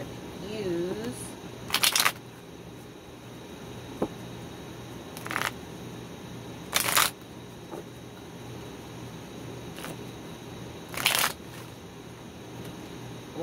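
Tarot cards being handled and laid out on a surface, giving a few short, crisp papery slaps spaced several seconds apart against a quiet background.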